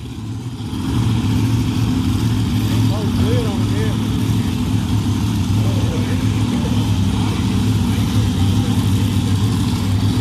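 A '57 Chevy funny car's engine rumbles loudly and steadily at a nostalgia drag race, a deep continuous roar with wavering tones, while voices talk underneath.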